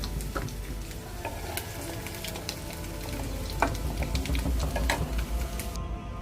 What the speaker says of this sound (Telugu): అందులో ములక్కాయ ముక్కలు వేసి కొంచెం షాలో ఫ్రై చేస్తానండి